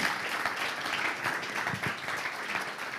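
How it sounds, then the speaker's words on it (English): Moderate applause from a conference audience at a studio stage session, a steady patter of many hands clapping throughout. "Have another applause for Martin."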